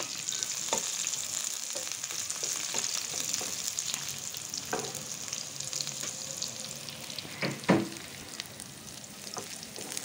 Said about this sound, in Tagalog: the last herbs that we're going to add is our garlic